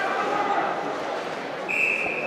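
A referee's whistle cuts through at an ice hockey game between the Caledonia Pro-Fit Corvairs and St. Catharines Falcons, a short sustained shrill tone near the end, heard over arena crowd noise and a commentator talking.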